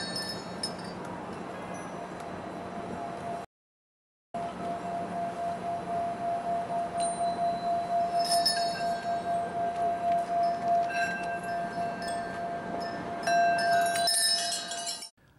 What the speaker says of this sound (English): So you ring a bell and you kind of hold that for a minute